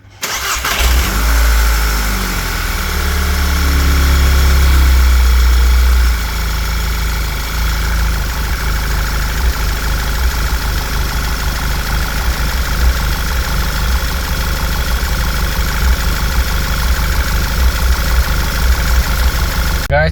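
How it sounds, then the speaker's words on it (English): An Audi/Volkswagen car engine cranks and starts after a PCV valve replacement, then settles into a steady, loud idle that continues evenly for the rest of the clip. "So I'm going to start the car."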